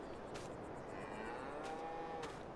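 Cows moo in Farming Simulator 22, low drawn-out bovine calls heard quietly against a steady ambient game background.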